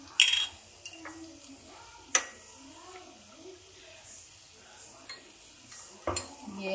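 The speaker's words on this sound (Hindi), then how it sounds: "इसको हम मिक्स करके अच्छे से मिक्स करना है इसमें" Tomato, chilli and soy sauces mixed in a bowl: sharp clinks of a spoon against the bowl at irregular intervals, with soft stirring between them, under a person talking.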